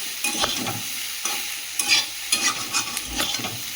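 Soybean and potato curry with ginger paste and tomato is sautéed in a pan, spatula stirring in irregular scrapes over a steady close sizzle, with no talking.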